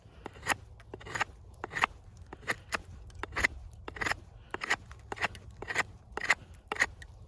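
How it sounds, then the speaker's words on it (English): Tops Moccasin Ranger knife blade whittling wood, a series of crisp, close shaving strokes in an irregular rhythm, each a short scraping crunch with brief pauses between, no talk. "We're just gonna carve a little bit, almost whittle with this blade to see how it feels."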